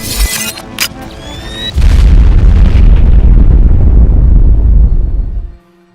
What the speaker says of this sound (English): then you will hear the sound of an atomic bomb being detonated